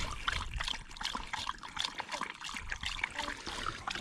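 Water from a garden hose trickling and splashing steadily nearby, a soft continuous spatter with uneven bursts, no talking.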